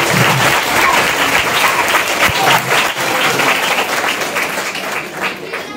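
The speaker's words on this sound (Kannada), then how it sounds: "ಅವರಿಗೆ ಒಂದ್ಸಲ ಜೋರಾಗಿ ಚಪ್ಪಾಳೆಯೊಂದಿಗೆ ಸ್ವಾಗತವನ್ನು ಬಯಸ್ತೇವೆ." A school audience at a traffic rules awareness session gives sustained loud applause to welcome two police officers, dense clapping filling the hall, steady then slowly tapering.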